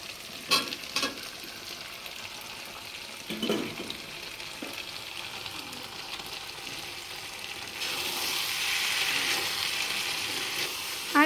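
Meat sautés in a pan for a Bengali kosha curry, a steady frying hiss with occasional scraping stir strokes, the sizzle swelling louder toward the end, no talking.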